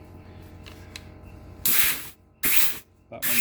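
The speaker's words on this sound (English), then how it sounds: "And you'll hear the piston in there." Air being applied to a piston in a 4L60E transmission, producing three loud, abrupt bursts of hissing air, each lasting under half a second, with quiet clicking and handling sounds before them.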